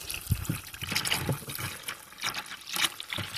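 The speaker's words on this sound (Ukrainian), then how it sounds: "І заливаємо його гарячою водою." Hot water is poured into a plastic bucket holding lime, making a faint, uneven trickling and splashing that lasts a few seconds.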